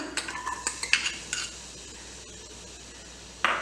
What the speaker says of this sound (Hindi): जो अदरक हमने बारीक बारीक काटा है ये भी डाल देते हैं इसमें